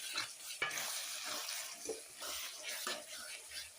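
Ginger garlic paste is stirred into spices in a pan, giving a quiet continuous sizzle with soft scraping strokes and occasional clicks of the spoon, close and with no talking.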